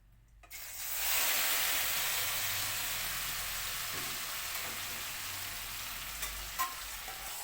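Chicken liver sautés in hot oil in a wok, opening quietly before a strong sizzle swells up within the first second and carries on evenly, broken near the end by a couple of light utensil clinks.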